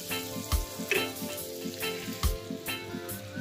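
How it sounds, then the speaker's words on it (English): Two ounces of butter melts and sizzles steadily in a pan as the base for a seafood alfredo sauce, with a soft continuous crackle broken by periodic low bumps and scrapes from the pan. "our butter is nicely melting"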